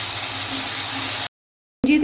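Water poured into an onion, almond and tomato masala paste in a hot pan for egg korma, giving a steady loud hiss and sizzle that cuts off abruptly, then a short burst resumes.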